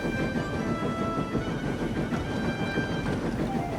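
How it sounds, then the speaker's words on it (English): A train speeds along the line with a steady rumbling roar and rhythmic rattling, moderately loud and continuous. "speeding down the line with his train in tow"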